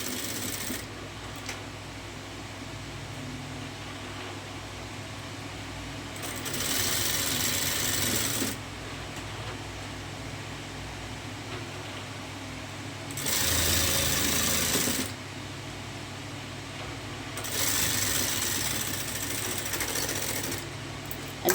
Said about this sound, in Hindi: तो इसको हम करेंगे सिलाई।